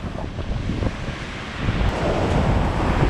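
Ocean surf roars continuously off an island headland, broad and rushing, with wind buffeting the microphone; the wash swells louder in the second half as a wave rolls in close.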